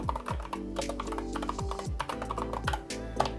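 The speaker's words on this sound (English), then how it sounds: "We're going to type in natural ventilation." Rapid typing on a computer keyboard, a fast run of close keystrokes under a steady musical backing, with no voices.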